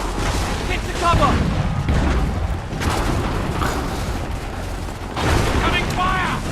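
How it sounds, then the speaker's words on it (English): Musket volleys crack and boom during a battle in Assassin's Creed 3, with several heavy bursts of massed fire and soldiers shouting commands amid the gunfire. "So you can see their muskets firing"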